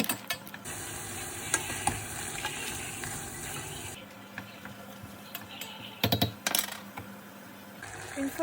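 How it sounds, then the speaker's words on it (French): Chopped onion browning gently in a drizzle of olive oil in a saucepan, a steady soft sizzle with occasional spoon stirring and clinks close by, no talking. "On va le mettre tranquillement à dorer dans une casserole avec un filet"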